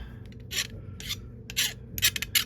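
A hand file rasps across the edge of metal bullet-mould die blocks in several short, close scraping strokes with brief pauses between them.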